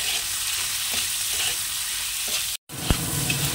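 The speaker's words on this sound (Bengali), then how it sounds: "আর ক্যাপসিকাম, একটু হালকা নাড়িয়ে নিয়ে তুলে নেব।" Capsicum with onion and tomato, sprinkled with salt, stir-fried in hot oil, producing a dense, loud continuous sizzle with occasional utensil knocks, briefly cut to silence before resuming.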